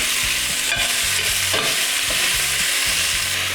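Beef pieces searing in a hot pan, a loud continuous sizzle with scraping and stirring bumps throughout, no voices.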